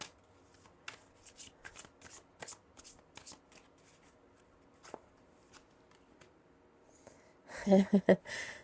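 Tarot-style energy cards being shuffled by hand, with scattered soft flicks and taps of the deck, then a brief, louder burst of riffling cards near the end.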